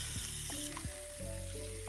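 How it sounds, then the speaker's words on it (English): Steady frying sizzle of ground beef in a hot pan, continuous crackling hiss with a few scraping stirs, close and fairly loud. "If you hear a sizzle, I don't apologize."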